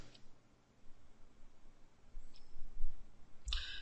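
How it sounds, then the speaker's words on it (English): Ctrl key press and mouse click on a computer keyboard and mouse: one sharp, close click stands out near the end over a faint background hiss. "So I just press the Ctrl key on my keyboard and then click the word"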